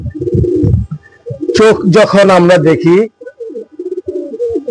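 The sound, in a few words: pigeons cooing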